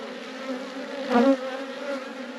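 Honey bees buzz at an opened beehive during an inspection with a nearly empty feeder: a steady, close, droning hum that swells briefly louder around the middle before settling back.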